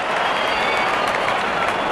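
Crowd applause in the Real Cricket 24 video game, a dense, steady wash of stadium clapping and cheering at constant loudness, with no pauses.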